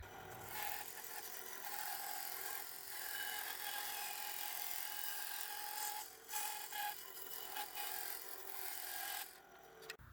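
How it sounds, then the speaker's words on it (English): A bandsaw cuts through a sturdy block of wood for a telescope insert: a continuous rasping, grinding cut that holds steady, with brief dips and a short break near the end as the blade exits the wood. "I'll cut that out on the bandsaw"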